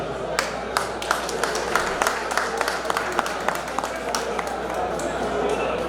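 Audience applause at a life celebration gathering in the U.S., steady clapping from many hands with a few sharper claps standing out over a busy room murmur.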